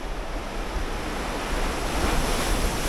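Ocean waves crash against the rocky Igidae shoreline in Busan. The surf roars close and steady, with rushing wind noise across the microphone.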